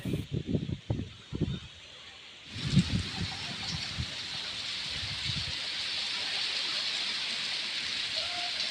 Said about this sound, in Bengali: এখন থেকে প্রচণ্ড ঝড় বৃষ্টি এইদিকে শুরু হয়েছে।